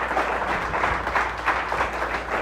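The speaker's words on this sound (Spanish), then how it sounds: "Alguien le da un aplauso fuerte al Señor en esta mañana" A church congregation applauds during a Sunday morning sermon, a dense, steady wash of clapping from many hands in a reverberant hall, sustained at even loudness throughout.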